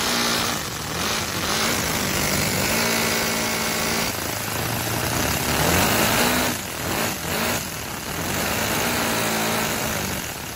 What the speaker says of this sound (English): One of my subscribers made an engine out of Legos.